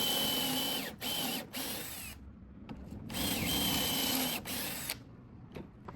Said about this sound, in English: I added some pocket holes and then attached everything using Kreg screws.